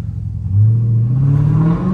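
A Dodge Charger 392 Scat Pack engine in sport mode revs up close, its low growl rising smoothly in pitch over about two seconds, loud and with no talking.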